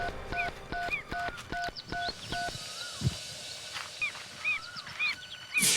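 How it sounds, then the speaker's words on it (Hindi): A phone keypad beeps through a quick series of dialing tones as a number is dialed, evenly spaced, followed by softer electronic chirps and a brief low thump. "मैं तन्वी का नंबर फिर से ट्राई करता हूँ।"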